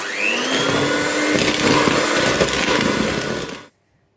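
Electric hand mixer whipping egg whites to soft peaks while 100 g of sugar is gradually added, for an apple sponge roll; a steady close whirring drone runs unbroken for over three seconds, then cuts off abruptly.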